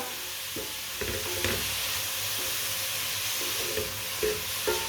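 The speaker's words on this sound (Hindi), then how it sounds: "इसी तरह चम्मच चलाते हुए गाजरों को ना पका लेना।" Carrots cook over a medium flame in a pan for a winter carrot and walnut recipe, sizzling steadily and loudly while a spoon stirs with repeated scraping knocks, close by and with no talk.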